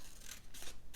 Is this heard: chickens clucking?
no